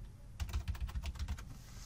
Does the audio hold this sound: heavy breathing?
no